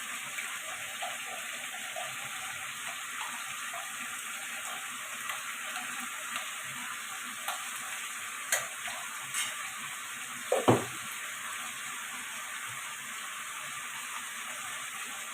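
A paste of ginger, garlic, onion and tomato fries in a pan for chicken curry, giving a steady quiet sizzle with a few soft clinks and one sharper stirring knock.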